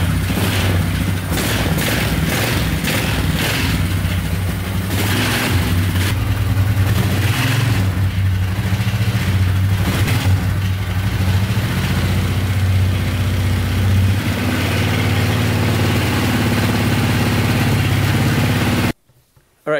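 A Polaris Scrambler 500 4x4 quad's engine runs steadily at close range, a loud continuous low rumble with slight fluctuations in pitch, cutting off abruptly at the end.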